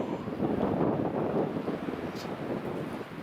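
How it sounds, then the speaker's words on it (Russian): Strong mountain wind buffeting the microphone in a steady, dense roar with no voices. "тут ветер сильный"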